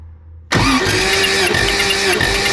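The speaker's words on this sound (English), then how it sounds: "yep, give it a crank." A Porsche 911E engine cranks over on the starter during a compression check: an abrupt loud onset after near silence, then a steady churning crank with a rhythmic pulse, close and alone.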